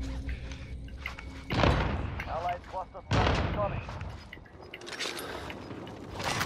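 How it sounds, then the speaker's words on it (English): Video game gunfire: heavy, booming shots in two big bursts with rattling mechanical clatter between them, loud and close, with excited players talking throughout. "We're getting shot at."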